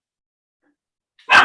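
A dog gives a single sudden loud bark right at the end, after a stretch of near silence.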